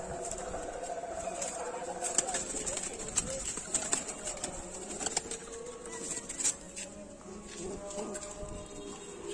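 Domestic pigeons in a loft or coop, cooing softly amid rustling, shuffling and occasional wing flaps, with a voice talking nearby over the birds.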